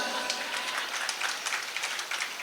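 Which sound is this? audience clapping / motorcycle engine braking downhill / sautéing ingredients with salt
audience clapping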